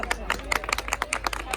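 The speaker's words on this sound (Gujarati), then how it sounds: "પાડો તાળીઓ પાડો" Rhythmic hand clapping at a wedding celebration, a steady series of sharp claps roughly every quarter second, mixed with crowd babble and voices talking over it.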